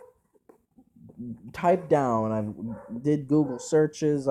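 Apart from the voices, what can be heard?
dog barking in the background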